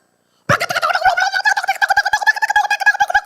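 A human voice mimics an agitated chicken, letting out a rapid, loud run of squawking clucks. The clucks start abruptly and keep going without pause, with a distinct wobbling, gobble-like pitch.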